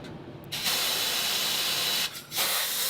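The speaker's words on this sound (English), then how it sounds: "So I'm using compressed air now to try and blow out the fire." Compressed air blasts loudly onto a freshly welded sill on a Ford Focus, a steady close hiss that starts after a brief quiet, cuts out for a moment, then resumes strongly.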